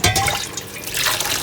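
Cold water from a kitchen tap runs steadily into a sink while cooking fried daal maash, a continuous broadband splashing rush with no voices over it.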